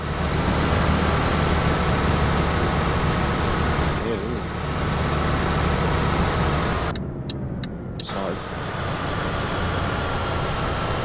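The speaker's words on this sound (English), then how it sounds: "Look nice, this truck, and it does sound quite nice as well." A steady diesel rumble from a Mercedes truck engine reversing in the game Euro Truck Simulator 2, a continuous low drone that dips briefly partway through, with someone talking over it.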